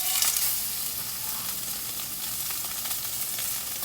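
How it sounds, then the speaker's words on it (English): Salmon fillets frying in a hot pan give off a steady, bright, close-up sizzle that holds evenly throughout, with no voices. "this pan is hot, so we're gonna start frying our fish"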